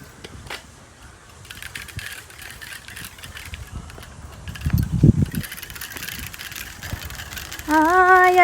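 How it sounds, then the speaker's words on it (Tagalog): A noisy bicycle with decorations fitted on its wheel rattles and clatters steadily while riding outdoors, with a louder burst of rumbling midway and a brief tonal whine near the end. "maingay po yung bike ko. Talagang ganun lang yung tunog ng bike ko kasi nilalagyan ng"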